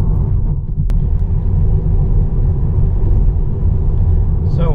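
A steady low road rumble of a Tesla electric car cruising on Autopilot, a smooth continuous hum with tire noise and no engine revving.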